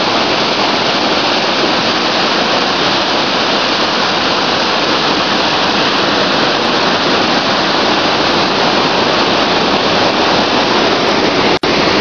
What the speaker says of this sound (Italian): E lì l'Aveno, l'Aveno col fiume impetuoso.